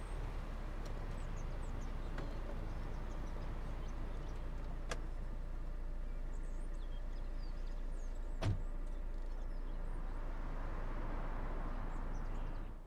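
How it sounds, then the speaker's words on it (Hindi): A car pulls up and idles with a steady low rumble, and a sharp click or thump comes partway through, like a door or latch. "आओ, गाड़ी आ गई।"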